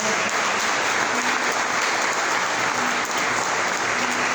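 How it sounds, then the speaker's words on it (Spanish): Dense, continuous applause from a large congregation at a Spanish-language Sunday church service fills the whole stretch at an even, loud level. "Denle ese aplauso al Señor."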